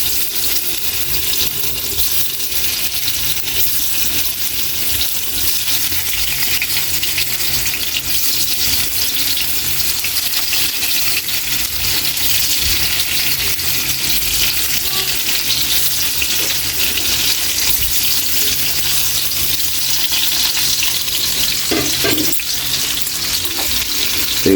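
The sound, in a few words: tofu frying in hot cooking oil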